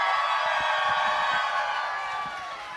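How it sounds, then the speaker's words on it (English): Audience applause and cheering at a drag show viewing party at Roscoe's, a steady, loud wash of crowd noise and claps that fades slightly toward the end. "Keep that applause coming."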